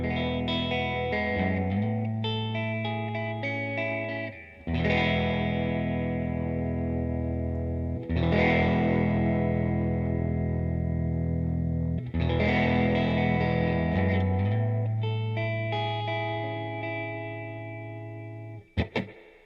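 Electric guitar played through an Eventide H90 effects pedal with gain just past clean, sounding loud, sustained chords that ring and decay in long phrases, thick with modulation and reverb.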